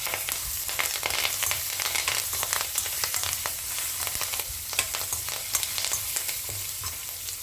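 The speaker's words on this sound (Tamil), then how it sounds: "ஸோ கடுகு பொரிஞ்செடுத்து அதே போல் கடலப்பருப்பு, உளுத்தம்பருப்புலாம் செவந்துடுத்து" Mustard seeds, chana dal and urad dal spluttering in hot oil with asafoetida, curry leaves and green chilies for a Tamil mango gojju tempering, a continuous dense crackle and sizzle with sharp pops scattered throughout, steady and close.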